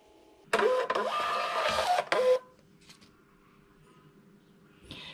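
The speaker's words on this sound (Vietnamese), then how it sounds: "Bấm in nè." A Bluetooth thermal printer prints a TikTok Shop shipping label, giving a close, buzzing whir for about two seconds with a brief stop and restart, then a short click as it finishes.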